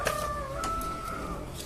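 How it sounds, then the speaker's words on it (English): Chickens cluck and squawk at close range in a short burst of sharp calls, with a thin drawn-out crow-like note running underneath, and no one talking. "the chickens are weird"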